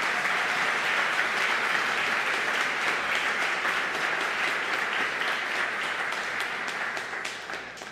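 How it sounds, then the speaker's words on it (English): A church congregation gives a round of applause on a building dedication day, a sustained even wash of many hands clapping that holds steady and then starts to thin toward the end. "I think we owe him a round of applause this morning for being there."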